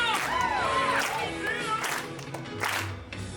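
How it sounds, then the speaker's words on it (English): During a stage performance, an audience claps along to a patriotic song. A handful of spaced claps and crowd noise sit beneath a clear singing voice. "So put your hands together and clap along."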